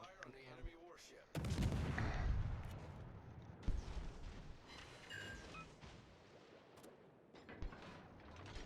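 Warship naval guns firing in World of Warships: one heavy, booming salvo that rolls into a long rumbling decay, followed by fainter distant reports and mechanical clatter.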